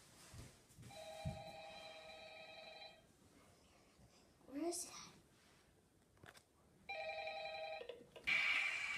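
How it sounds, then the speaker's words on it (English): A telephone rings in a quiet room, two bursts of bright electronic trilling separated by a pause, fairly loud against a hushed background, with a voice briefly speaking in between. "Is that the phone ringing?"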